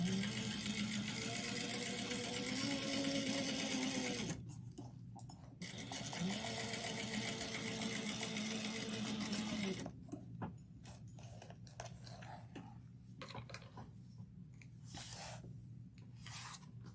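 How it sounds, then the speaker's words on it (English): A sewing machine stitches a 1/4-inch seam on cork fabric for a sling, running in a steady close whirring hum with a brief pause, then quieter fabric handling and rustling. "Make sure you back stitch."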